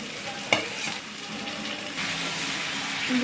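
Fried potatoes and onion stirred in a pan, a spoon scraping and clacking against the metal with one sharp knock early on, over a steady, close sizzle that carries through the whole stretch.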